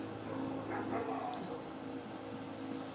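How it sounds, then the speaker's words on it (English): Dogs bark in short, muffled bursts at a moderate distance over a steady background hum, with faint voices nearby. "got the dogs barking."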